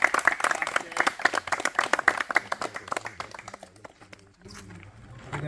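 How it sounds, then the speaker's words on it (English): A small group claps steadily and energetically, rapid overlapping hand claps that taper off toward the end as a voice begins to speak. "first applause for you"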